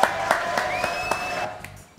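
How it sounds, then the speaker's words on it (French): An audience applauds to welcome Antoine Smadja, an actor guest on a French talk show, with a steady run of close hand claps that tails off after about a second and a half. "Applaudissements pour Antoine Smadja."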